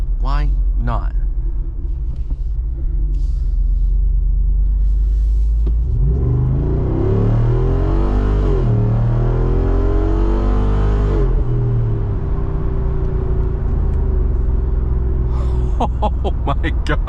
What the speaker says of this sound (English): You do have a button to turn on and off the performance exhaust.